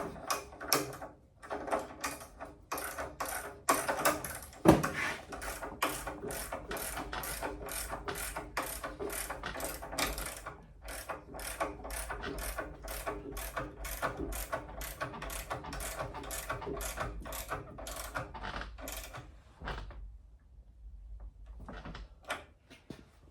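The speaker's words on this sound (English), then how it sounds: "I gotta get a wrench. Okay, let's tighten these up." Wrench ratcheting on 19 mm bolts of a 1972 VW Super Beetle, a long run of rapid, evenly spaced mechanical clicks, close and fairly loud, with one sharp clank early on and a brief pause before a few final clicks.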